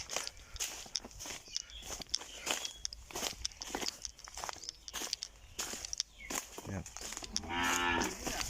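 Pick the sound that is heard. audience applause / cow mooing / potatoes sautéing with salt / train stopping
cow mooing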